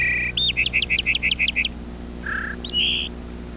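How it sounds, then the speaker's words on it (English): A song sparrow sings a bright phrase: an opening note, a quick run of repeated trills, then a few separate buzzy notes, clear and close. "Marler played a third group of birds the songs of a song sparrow."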